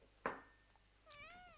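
A cat meows softly, close by and faint. There is a short sharp first call, then after a pause a longer, drawn-out wavering meow.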